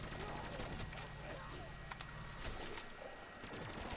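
Rapid gunfire from shooting zombies in Call of Duty: Black Ops III on the Cosmodrome map, with bursts of automatic shots over a low rumbling game soundscape and brief pauses between volleys.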